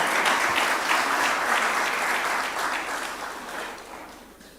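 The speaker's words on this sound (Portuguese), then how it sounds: "Agora podem bater palmas" Audience at a ministerial meeting breaks into loud, dense applause that holds steady and then gradually fades away toward the end.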